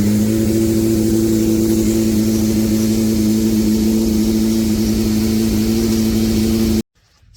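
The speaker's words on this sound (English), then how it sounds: "The last thing to do is get the bike fired up." A race motorcycle engine runs close and loud with a steady, sustained drone that holds for about seven seconds before cutting off sharply, followed by brief quieter noise.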